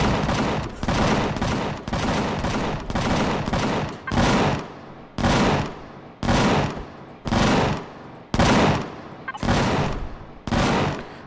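Guns in a video game fire continuously, in loud, sustained bursts of about a second each, separated by brief pauses and repeating steadily.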